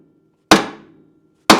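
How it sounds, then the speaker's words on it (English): Two sharp metallic hammer strikes knock against the side of a rear wheel bearing on a 2001 Honda CR-V, the first ringing briefly before fading, the second landing about a second later, each loud and close with no talk. "all we're going to do now is just hit the side of this with a hammer"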